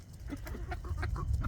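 A flock of young Americana chickens about twelve weeks old gives off soft, overlapping clucks and brief chirps close by, over a low rumble of outdoor background noise.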